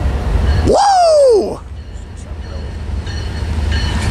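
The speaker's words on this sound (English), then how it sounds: "This could be the train with the AC, though." A passing train on a railroad, a loud rumbling pass with a sweeping horn-like tone that rises and falls over about a second before fading into steady background noise.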